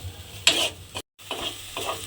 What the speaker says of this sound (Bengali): আমি নুনটা দিয়ে একটু টমেটোটা ভাজা ভাজা করে নেব যাতে টমেটোটা গলে যায়